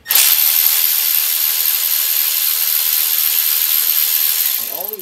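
Power tool spins out oil pump bolts on a Ford 3.5L V6 engine, a loud continuous high-pitched whir holding steady for several seconds before cutting off with a short winding-down whine.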